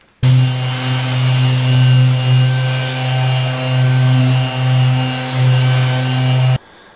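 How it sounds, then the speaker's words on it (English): A power sander runs steadily over an exotic wood cutting board of maple, African rosewood and imbuia during final sanding, a loud, even whirring hum that holds for about six seconds and then cuts off. "So now we're done with the final sanding."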